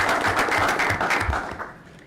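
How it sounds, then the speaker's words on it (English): A room at a school board meeting breaks into applause for students, a full, close burst of clapping that holds steady before tapering off toward the end. "We also have Samantha Gonzalez, so we'll give her a big round of applause as well."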